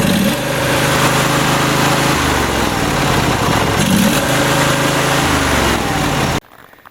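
The engine of a Troy-Bilt GTX2654 lawn tractor runs loud and steady at full throttle, a droning motor with a faintly pulsing rhythm that cuts off abruptly near the end.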